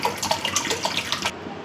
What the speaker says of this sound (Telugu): కూల్ వాటర్ ఒక గిన్నెలో పోసుకొని